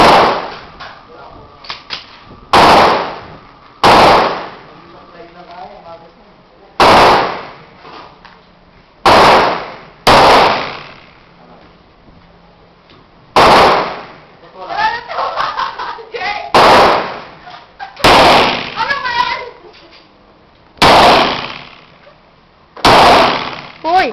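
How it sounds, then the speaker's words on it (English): Gunshots from a brand new Armscor 1911A1 9mm pistol, roughly a dozen loud sharp reports at irregular intervals, with people talking between shots. "That's firing a brand new Armscor 9mm."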